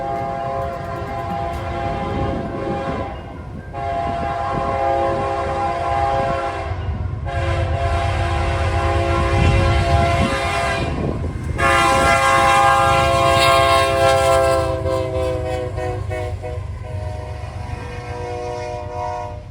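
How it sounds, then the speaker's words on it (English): A westbound double-stack intermodal freight train led by an AC-44 locomotive sounds its horn in long, loud, repeated blasts at close range, with brief gaps between them and the rumble of the passing train underneath. "the crew was just as friendly as the Ace crew since they gave us horn spam"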